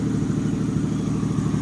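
A Lexus IS300 engine idles low and steady through its exhaust on its first startup, giving a continuous, even rumble with no talking.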